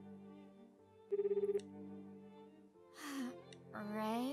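In the game Crystar a phone dials with a quick run of short electronic tones, then a ringing tone follows, quiet and clean, and a voice begins talking afterward.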